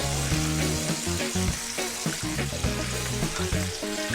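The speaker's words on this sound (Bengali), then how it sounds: "দারুণ সুন্দর কিন্তু ভাজা হচ্ছে দেখুন" Koi fish wrapped in bottle gourd leaves frying in a pan, a steady close sizzle with soft stirring and scraping clatter throughout, no voices.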